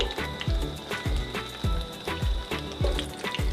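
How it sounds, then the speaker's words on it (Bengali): Kolkata-style fish butter fry cooking in white oil over a low flame, giving a steady sizzle broken by sharp knocking bursts roughly every half second, close and fairly loud. "আমি এই পুরো ভাজাটা তৈরি করছি সাদা তেলে।"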